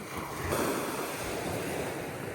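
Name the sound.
rough sea waves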